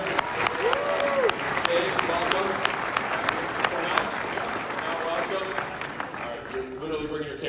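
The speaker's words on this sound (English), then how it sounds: "Let's give them a round of applause." Audience applause for volunteers called up on stage during an opening keynote by the Savannah Bananas owner, steady clapping filling the room with crowd voices and cheers mixed in and a few louder individual claps standing out.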